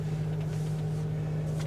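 A motorhome's air suspension compressor runs as a steady, even mechanical hum with a low tonal drone, continuous and unchanging throughout the short stretch.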